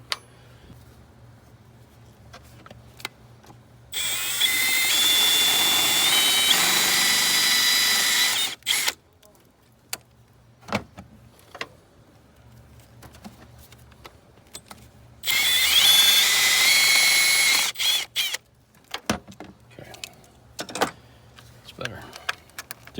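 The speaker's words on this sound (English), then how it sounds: "So we got to drill those bigger." A power drill whirs in two sustained bursts of a few seconds each, enlarging holes, separated by quieter stretches with scattered clicks and handling noises.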